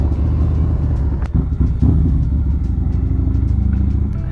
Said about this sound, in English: We're gonna start the bike.